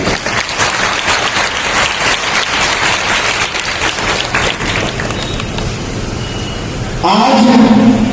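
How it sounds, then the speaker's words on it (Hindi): A large crowd at a Bahujan Maitri Sammelan rally in Farrukhabad, Uttar Pradesh, claps to welcome a guest, loud, dense clapping that thins out after about five seconds before a louder voice cuts in near the end. "फर्रुखाबाद के राजा महाराजा सभी लोग ताली बजाकर उनका स्वागत करें"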